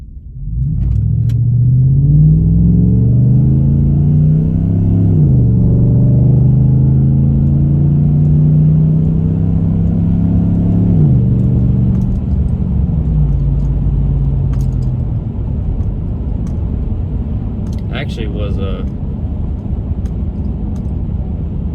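A truck engine fitted with a cold air intake revs hard under acceleration, loud and close, rising in pitch through two gear shifts before settling into a steady cruising drone with a few faint clicks near the end.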